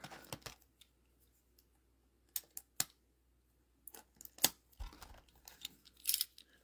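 A Dragon Ball Saiyan Saga booster box being cut open, heard as sharp, close slicing and scraping clicks in irregular bursts separated by near silence; no talk.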